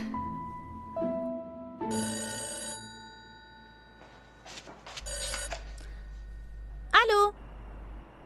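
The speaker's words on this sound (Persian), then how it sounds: "ایلول تلفن کارت داره" A telephone rings in several bursts of bright, bell-like tones indoors in a Persian-language TV drama, with voices and other room sounds around it.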